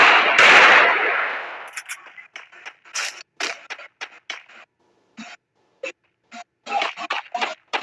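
Gunfire in a shooting video game: a loud blast followed by rapid bursts and single shots in uneven clusters, close and dry, with no voices.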